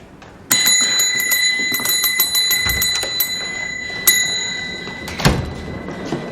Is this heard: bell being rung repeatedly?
yes